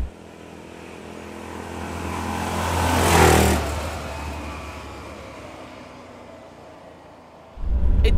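A 1959 BMW Isetta bubble car's small single-cylinder engine runs steadily nearby, swelling in a brief rev around the middle before settling back to an even idle and then rising again at the end.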